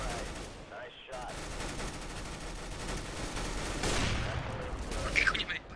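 Rapid bursts of automatic gunfire in Counter-Strike: Global Offensive, a dense, continuous clatter of shots through most of the stretch, growing louder near the end, with voices talking over it.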